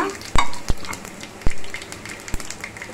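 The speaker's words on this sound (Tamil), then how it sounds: "நல்லா பார்த்திங்கன்னா கடுகு பொறிஞ்சி வருதுங்க உளுத்தம் பருப்பு நல்லா கலர் மாதிரி வரணும்" Mustard seeds and urad dal spluttering in hot oil for a vallarai keerai thuvayal, with sharp popping cracks over a steady background sizzle, a few loud pops standing out near and close, no voices.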